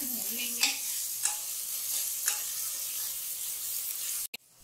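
Chopped ginger and garlic frying with onion in a pan for moong dal tadka, a continuous hiss of sizzling with a few stirring scrapes and a brief clatter near the end.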